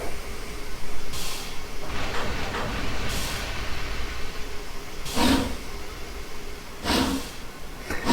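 A GWR Queen class 2-2-2 steam locomotive in the Trainz railway simulator sets off, giving steady rolling rumble broken by several loud bursts of steam exhaust, roughly every two seconds, with no voices.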